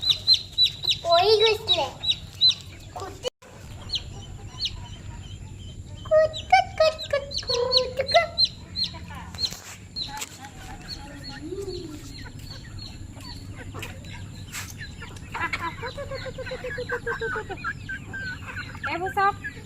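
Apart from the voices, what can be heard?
local chickens clucking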